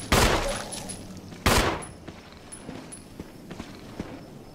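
Handgun shots in Resident Evil Remastered: two sharp gunshots about a second and a half apart, then softer footstep-like thuds and small clicks in a quiet game scene.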